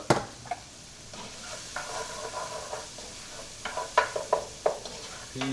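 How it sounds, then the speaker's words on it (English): Pancetta, peas and garlic fry in a pan with a soft, steady sizzle while a utensil stirs them, giving several sharp scrapes and clinks against the pan toward the end. "Stir that up."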